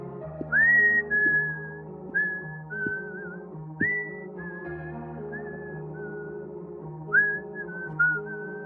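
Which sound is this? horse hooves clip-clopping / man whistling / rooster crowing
man whistling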